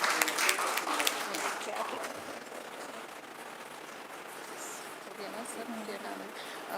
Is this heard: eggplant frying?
no